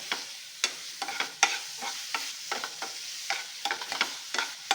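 Curry leaves and chopped garlic fry in a hot pan, giving a steady sizzle broken by about a dozen sharp scraping stir strokes, close and fairly loud, with no talk.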